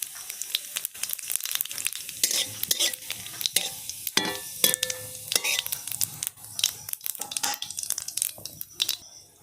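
Bay leaf and cumin frying in hot oil, a busy crackling sizzle with stirring scrapes throughout, moderately close, with faint talk at times.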